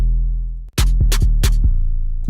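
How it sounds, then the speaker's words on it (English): An unprocessed 808 bass from a Bang Bros sample pack sustains a deep low tone, then after a brief gap hits in a rhythmic pattern along with sharp snappy percussion, loud and up front. "But this 808 normally will sound like this without this."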